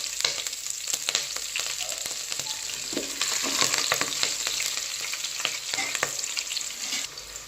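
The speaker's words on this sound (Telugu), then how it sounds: "ఇవి కొంచెం ఫ్రై అవ్వాలంతే" Green chillies and spices fry in oil in a pan for tomato rice, giving a continuous close crackling sizzle broken by frequent sharp pops and stirring clatter, without speech.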